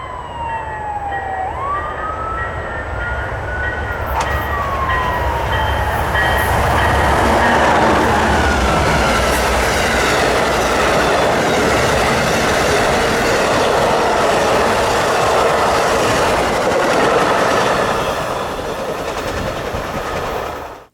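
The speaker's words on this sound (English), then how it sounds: "the Amtrak Floridian 41 with a Phase 5 unit trailing" The Amtrak Floridian 41 passenger train, with a Phase 5 unit trailing, passes close and loud, its horn sounding early on before a long, steady rush of wheels and railcars.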